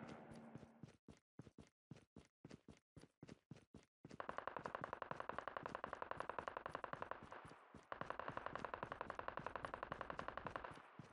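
Gunfire in the mobile shooter Call of Duty Mobile: a burst of separate sharp shots, then dense, loud automatic fire sustained for several seconds, a brief break, and another long rapid volley.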